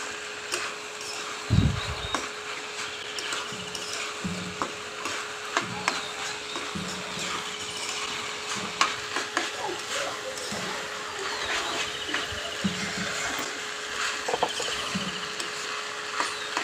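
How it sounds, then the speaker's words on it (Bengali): A spoon scrapes and stirs rice in a pot while pulao cooks, giving soft, repeated scraping strokes against the pot under a faint steady hum. One louder knock comes early on, and someone talks over the stirring. "চালটা দেওয়ার পরে এটাকে সুন্দরভাবে আস্তে আস্তে নেড়ে নিলাম"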